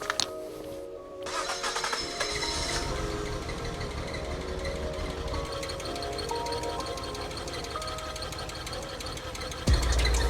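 Abandoned Nissan R34 Skyline cranking and catching, then settling into a steady, loud idle that runs on for several seconds, with a brief clunk near the end.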